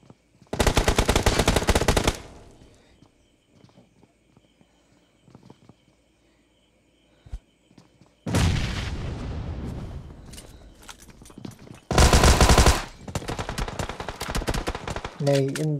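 Gunfire from the BGMI battle-royale game comes in three loud bursts of rapid automatic shots with a blast among them, separated by quieter stretches of faint ambient game sound, with a commentator's voice also present.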